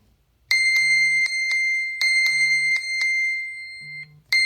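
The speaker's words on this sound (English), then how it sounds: "Not sure if you can hear it or not, but my cell phone is vibrating." An Amazfit Active 2 smartwatch's Find My Phone feature sets a cell phone ringing with bright electronic ding tones, loud and close, in repeated bursts of two to four chimes separated by short pauses, while a low buzz of vibration sits underneath.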